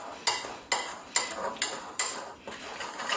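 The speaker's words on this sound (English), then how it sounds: "Basically, all you would do then is give that a good mix." Calamari being stirred with fresh ground black pepper in a bowl, with six or so sharp scraping clinks of utensil against the bowl at a steady rhythm, close and fairly loud, with no talking.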